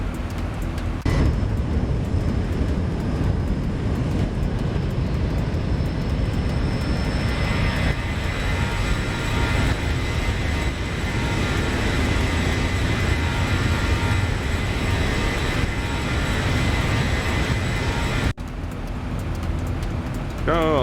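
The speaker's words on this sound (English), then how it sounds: "we're gonna do a low flyby here in the 737" A Boeing 737 in the X-Plane 11 flight simulator drones with a loud, steady jet engine roar throughout a low flyby, with a brief cut near the end and a voice talking over it.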